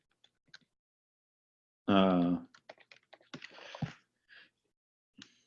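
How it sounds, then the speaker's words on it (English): Scattered key clicks come from a computer keyboard as someone types into a Prometheus console. The taps fall in brief, irregular bursts, close and fairly quiet, and a short voiced sound cuts in partway through. "when you just start typing in a Prometheus console"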